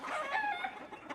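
In a farm flock that includes an Ayam Cemani rooster, a chicken gives a short, faint clucking call, a quick burst of a second or so with no talk.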